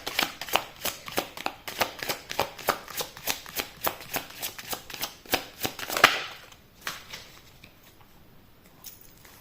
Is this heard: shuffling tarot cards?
yes